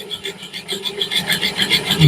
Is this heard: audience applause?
no